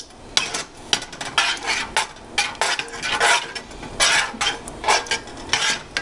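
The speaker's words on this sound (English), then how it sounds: "And I'm gonna mix this up." Meatloaf ingredients, seasoned with black pepper, mixed in a bowl with repeated scraping, clinking strokes of a utensil against the bowl in a steady uneven rhythm, close and fairly loud, with no talking.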